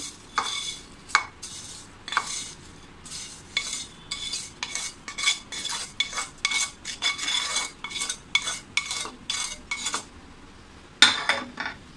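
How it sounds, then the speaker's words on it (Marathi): A spoon stirs vermicelli kheer in a metal pot, producing repeated scraping clinks against the pot at an irregular, steady pace, close and moderately loud, with no talking. "व्यवस्थित छान असं ढवळून घेऊया। आपल्याला छान असं 5-10 मिनटं छान असं ढवळायचं आहे"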